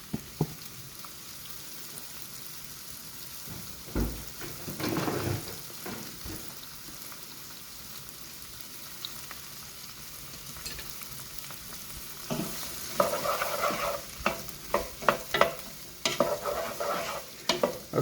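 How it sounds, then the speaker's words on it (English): Mushrooms and onions browning in a hot pan: a low, steady sizzle broken by bursts of scraping and stirring, which grow busier and louder near the end. "We're going to start browning them."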